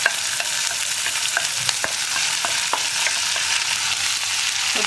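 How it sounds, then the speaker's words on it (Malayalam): Sliced onions are tossed into a hot pan of popped mustard seeds, making a steady, close frying sizzle with scattered crackles and spoon scrapes, and no talking. "നമുക്കിതിലേക്ക് നമ്മൾ മുറിച്ച് വെച്ചിരിക്കുന്ന സവാള ചേർക്കാം"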